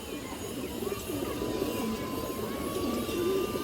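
A female pigeon coos softly in a low, repeated murmur over a constant background hum, faint and somewhat distant.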